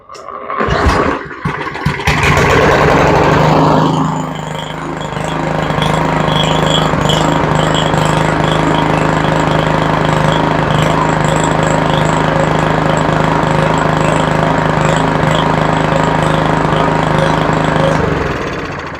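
A Yard Machine lawn mower engine, long unused, sputters and catches, then settles into a steady, loud, somewhat rough drone that runs on continuously, close by.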